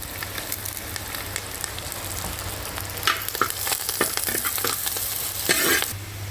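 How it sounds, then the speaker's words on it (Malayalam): Ginger, garlic, shallots, green chilies and curry leaves sautéing in hot oil in a pan, a steady close sizzle broken by bursts of stirring and spoon scrapes, with no talk. "ഇഞ്ചി വെളുത്തുള്ളിയൊക്കെ നല്ലപോലെ വഴണ്ടല്ലേ ചേച്ചി"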